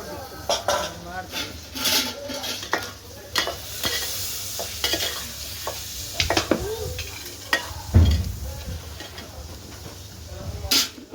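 Chicken curry is stirred in a pan with a steady sizzle, the spoon scraping and knocking against the metal in irregular strokes, while a voice talks over it.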